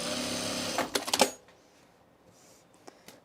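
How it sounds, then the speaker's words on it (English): A sewing machine stitches along the sides of a baby bag pocket in a fast, close whirr lasting about a second, then stops, leaving quiet room tone broken by a couple of faint clicks. "I'm just gonna stitch it along the sides."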